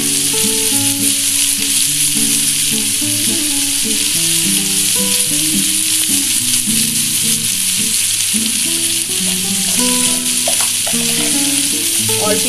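Vegetable fried rice sizzles and fries steadily in a pan, a loud continuous crackle with stirring scrapes throughout and no talk.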